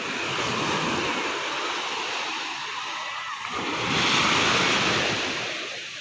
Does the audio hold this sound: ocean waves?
yes